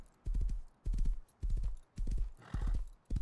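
Horse hooves clip-clopping in the video game Rust, a close, loud series of quick hoof-beat clusters in a steady trotting rhythm, with no other sound between them.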